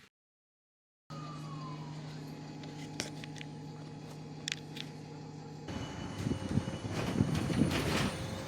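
A Montreal metro train runs at Longueuil station with a steady mechanical hum and whine and occasional clanks, growing louder and rougher near the end as the train moves.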